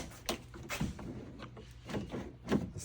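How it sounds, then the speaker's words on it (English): Jeep TJ Wrangler door lock being worked, giving several soft, close mechanical clicks and clunks spaced irregularly, fairly quiet overall. "Let's lock the door."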